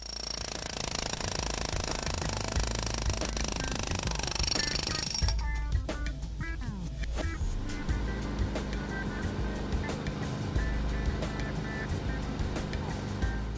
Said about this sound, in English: Start cutting or breaking at such a distance from the edge that the machine is capable of breaking the material without levering.